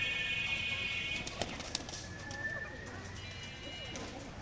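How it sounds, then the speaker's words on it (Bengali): Pigeons and chickens feed together on scattered wheat, with soft pigeon coos, a couple of sharp pecks or wing flaps, and a low murmur of voices under the steady ambience. "মুরগি এবং কবুতর একসাথে খাইতেছে"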